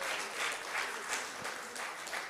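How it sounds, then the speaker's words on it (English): Soft, steady applause from an audience at a political dialogue session on affirmative action, a faint continuous patter of many hands. "give her a warm round of applause"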